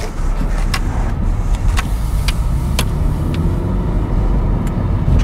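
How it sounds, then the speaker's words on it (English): A BMW E46 Touring with a four-cylinder engine driving in third gear gives a steady, close interior road rumble and engine drone, with a few brief clicks and knocks over the top and no talk. "Drives alright so far. We're in third gear."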